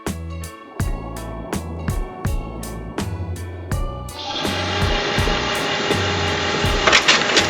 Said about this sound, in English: Instantly it will print.